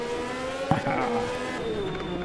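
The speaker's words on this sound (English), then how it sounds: "Mercedes 190E with the Judge V10 engine" A Mercedes 190E hill climb race car with a Judge V10 engine screams at high revs as it accelerates, a loud, steady high-pitched whine with a brief tire squeal.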